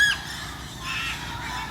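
Parrots squawk in a shaded aviary at a Florida exotic bird sanctuary, with harsh calls rising over a steady hiss of background noise.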